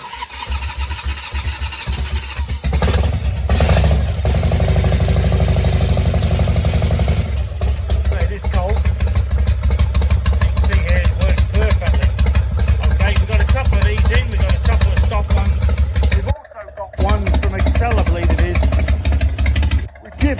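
Harley-Davidson Evo motorcycle with a Screaming Eagle ignition unit, its engine loud and close, idling with a deep steady rumble for most of the stretch and briefly cutting out near the end, as someone talks over it.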